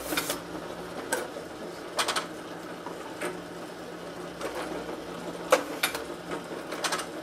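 An Advent 300 pressure-sensitive labeler runs through a batch of about ten items, each label applied with a crisp mechanical clack. The clacks come at irregular intervals over a faint, steady machine hum, with no one talking.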